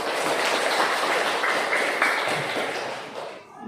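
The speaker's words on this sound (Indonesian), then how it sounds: "Tepuk tangan untuk kita semua." Applause in a classroom during a science lesson, a dense, steady patter of many hands clapping together, loud and continuous before thinning out and fading near the end.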